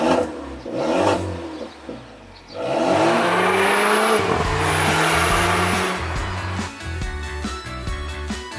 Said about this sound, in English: The Volvo 4-cylinder sounds surprisingly good